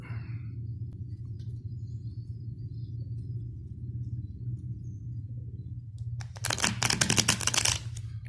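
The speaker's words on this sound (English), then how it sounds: "Do an old-fashioned poker shuffle" Stiff playing cards get an old-fashioned riffle poker shuffle indoors. A quick burst of crisp, fluttering clicks comes near the end over a quiet, low background hum.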